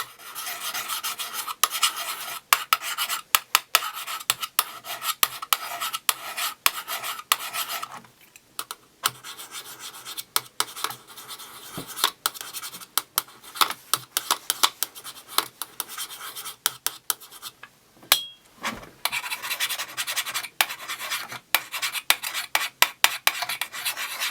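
House key scraping the corner of an iPhone 5S metal casing, a long continuous close scratching and rasping with sharp clicks scattered throughout and a couple of short pauses, no speech.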